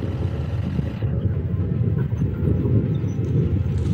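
A 2020 BMW F900R motorcycle's engine at wide open throttle while overtaking on the road: a dense, continuous low roar mixed with rushing wind, loud and steady throughout.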